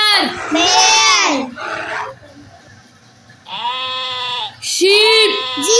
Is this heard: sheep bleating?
yes